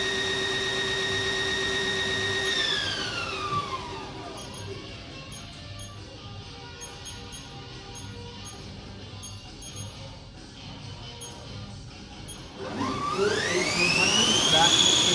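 A 2007 HAAS TL-3 CNC toolroom lathe spindle spins up to 1000 RPM with a rising whine, holds a steady hum under faint shop noise, then ramps up again near the end.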